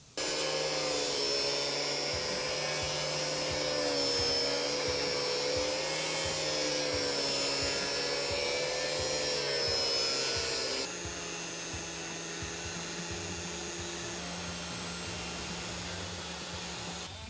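A cutting tool trims the thick grille of a Lexus GX460 front bumper, giving a loud, steady high-pitched whine that runs without a break and drops to a slightly lower, quieter tone partway through.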